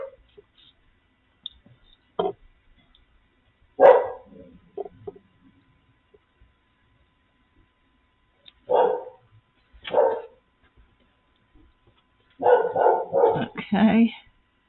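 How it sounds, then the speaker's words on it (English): A puppy outdoors barks in scattered single yelps and then a quick run of barks, heard at moderate distance over an otherwise quiet indoor room. "that is my wonderful puppy out there that will not hush"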